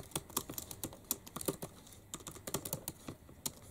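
Steady typing on the keyboard of a 2013 MacBook Pro, a quick run of light, crisp key clicks with short pauses, close and fairly quiet, with no voices.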